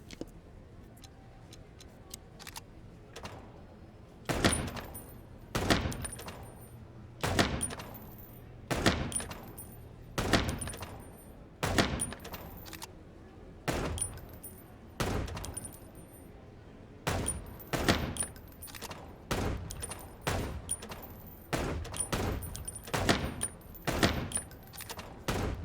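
Gunfire in the shooting minigame of Chicken Police, a long run of sharp, punchy shots at an uneven pace, some in quick pairs, with faint ticking between them and no talk.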